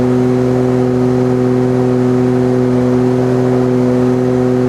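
A Nissan R34 GT-R engine runs steadily indoors, its loud, even drone holding a constant pitch throughout without any clear rise or fall.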